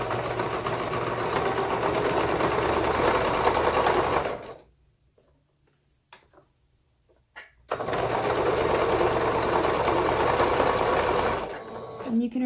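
A sewing machine stitches fabric in a fast, steady, close-up hum, stopping for about three seconds of near silence, then running again before a brief fade at the end.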